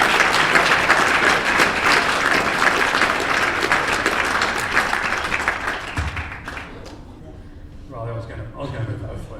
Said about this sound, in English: I'll give them a massive round of applause and welcome them on the stage.